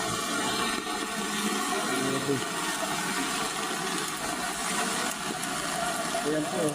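Floodwater from the swollen Tullahan river rushes in a steady, loud, continuous churning roar that persists without letup, with voices talking faintly over it.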